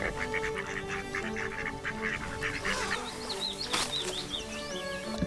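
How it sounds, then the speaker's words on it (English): Geese or ducks honk and call repeatedly at close range outdoors in Scotland, a busy flock chorus with overlapping squawks over steady background noise. "Oh, duckies are here."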